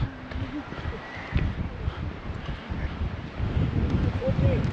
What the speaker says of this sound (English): Now it's very windy and very cold.